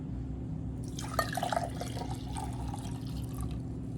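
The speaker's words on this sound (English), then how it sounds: "If you pour it in a cup right here" Water is poured into a one-cup measuring cup, a faint, brief gurgling trickle over a low background hum, close by with no talk.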